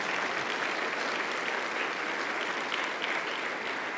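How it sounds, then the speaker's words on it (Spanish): Sustained applause from a large church congregation at a Sunday service, steady and dense throughout, loud and close with no breaks. "Dale un aplauso al Rey de Reyes."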